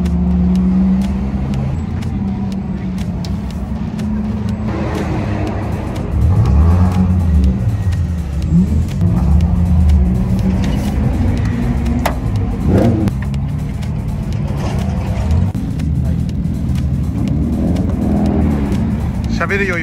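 A race car running a timed lap drones and revs steadily throughout, with the engine note rising and falling as it accelerates, while people talk over the engine noise.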